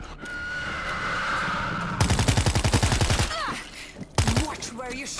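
Gunfire in the zombie shooter World War Z: a rapid automatic burst of closely spaced shots, then a pause and a few more scattered bursts, loud and close.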